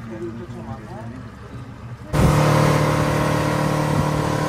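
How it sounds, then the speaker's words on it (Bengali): A tour boat engine hums steadily on the water, then its drone suddenly grows louder and fuller midway through, holding at a constant rumble close by. "এই জায়গায় বোটটা একটু তারা স্লো করে দেয় যাতে সবাই সুন্দর করে দেখতে পারে।"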